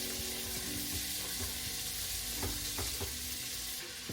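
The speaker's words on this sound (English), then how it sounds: "I add it to my Dutch oven here, and I just put in a little bit of butter here." Onion, celery, carrots and garlic sauté in butter in a Dutch oven, a steady close sizzle with occasional stirring knocks and scrapes from a spoon.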